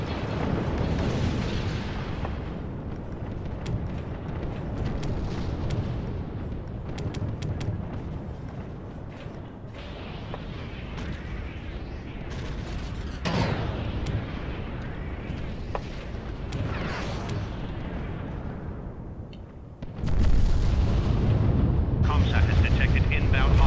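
Space fleet weapons in the video game Sins of a Galactic Empire roar in heavy, rolling booms and blasts that pound almost without pause, with a sharp, louder barrage near the end and occasional spoken voices.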